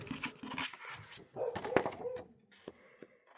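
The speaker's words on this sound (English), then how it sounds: "but they do like to bark a lot" Pet dogs bark and whimper indoors in short, uneven bursts, fairly close but moderate in volume, with a louder cluster in the middle and a few sharp yips trailing off.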